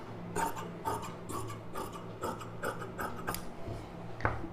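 Scissors cut through blouse fabric in a run of repeated rasping snips, close and moderately loud, each stroke a short scraping rub, with no voices.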